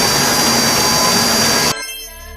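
A cartoon drill machine digging sound effect, a loud, steady high-pitched whirring buzz lasting under two seconds before it cuts off abruptly, leaving a faint fading tail.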